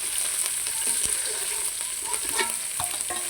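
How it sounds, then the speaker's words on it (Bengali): Tilapia fish frying in hot oil, a continuous crackling sizzle with scattered pops and light utensil scrapes throughout, loud and close with no talk. "সবগুলো মাছ উল্টানো হয়ে গেছে দেখেন আমার, আর মাছগুলো ভাজা হয়ে গেছে।"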